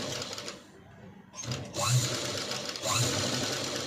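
Machine stitching on blouse cloth for a princess-cut blouse, sewn in short bursts separated by brief gaps, close and fairly loud, with faint talk in between.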